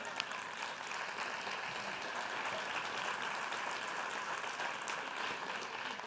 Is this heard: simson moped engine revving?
no